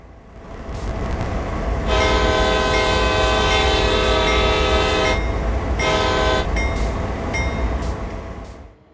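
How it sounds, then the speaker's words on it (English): A diesel locomotive horn in the Train Sim World 3 video game sounds one long, loud blast followed by a brief second toot, over a steady rolling rumble of the rail. "the pathetic horn sound Dovetail used across all four locomotives"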